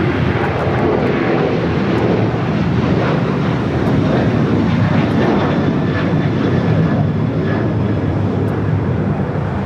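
A jet on its takeoff roll from runway 25 right at LAX gives a loud, close, continuous engine roar with a rushing broadband texture that holds strong for the whole stretch.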